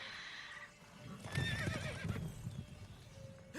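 Geralt's horse Roach in The Witcher 3 gives a clear rising whinny over a rapid clip-clop of hooves, close by with some ambient game sound, no speech.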